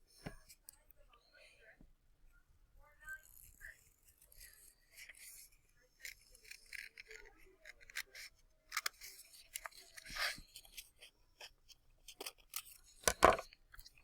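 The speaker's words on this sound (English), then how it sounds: "I'm going to keep this paper folded when I cut." Scissors snipping through folded paper while cutting out a symmetrical mask shape, a run of quiet irregular crisp cuts and paper rustles, close, with soft whispered talk between them.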